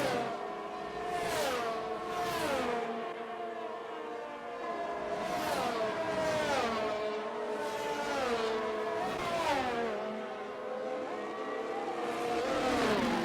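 A pack of closely bunched Formula 1 cars races on track at the France round in the video game F1 22, engines rising and falling as they pass one after another in a continuous, moderately loud roar.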